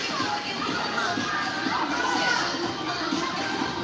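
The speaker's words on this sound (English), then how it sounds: "Falcons crowd is a little rowdy this morning" Boisterous youth crowd at a peewee ice hockey tournament game against the Falcons, a steady wash of children's shouts and chatter filling the rink, loud and continuous with no single voice standing out.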